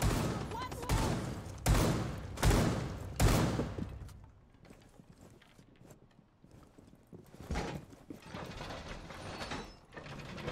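Magazine swaps in a first-person shooter video game: a run of four sharp metallic clacks in quick succession, then a quieter pause and a few more scattered clicks and rattles.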